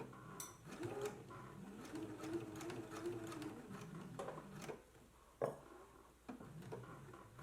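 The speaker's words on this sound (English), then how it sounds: "Now we can go ahead and do a stitch in the ditch right here, sewing right into this groove" A sewing machine stitches in the ditch along the pressed-edge groove of a dress, giving a quiet, uneven run of mechanical whirring and ticking with small clicks and a sharper knock near the end.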